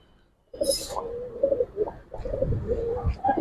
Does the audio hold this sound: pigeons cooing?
yes